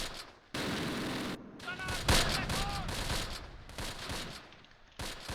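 A mortar barrage in the video game Close Combat, with dense bursts of gunfire and booming impacts rolling through the mix, loud and continuous, broken by brief quieter gaps, while a voice speaks underneath.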